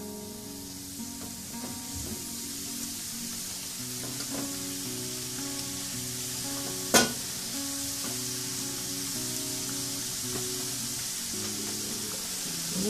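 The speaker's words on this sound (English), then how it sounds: "So I'm just going to fry these now in some hot oil." Ghughra, or gujiya, pastries fry in hot oil with a steady, close sizzling hiss and soft bubbling, broken by one sharp clink near the middle, and no voices.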